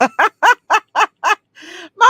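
A pet chicken gives a rapid series of about seven loud, close, throaty gobbling calls in an even rhythm, followed by a brief raspy note and one more call.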